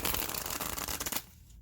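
Mary-El tarot deck being shuffled, a dense rapid riffle of cards that runs loud and steady for about a second before cutting off into quiet.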